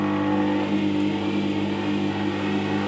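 A WG200 8-inch wet stone sharpening system's motor runs with a steady, even hum throughout, close and fairly loud, with no talk.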